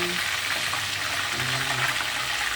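Fried chicken sizzling in hot oil, a steady loud crackling hiss that runs without break and sits close by, with faint low sounds underneath.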